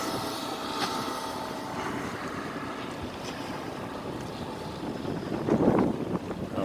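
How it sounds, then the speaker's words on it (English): Wind gusting across a sailboat, a steady rushing buffet with faint water wash, swelling louder toward the end; close and continuous, with no talking. "Wind's shifting again."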